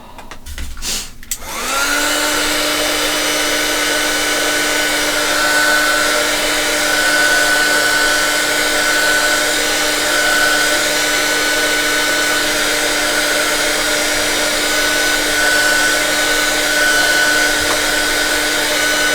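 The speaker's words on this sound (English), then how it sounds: "And then I'm just going to dry it off." A hair dryer blows steadily over a mixed media artwork, switching on after a brief rustle and then holding a loud, even whirring hum throughout.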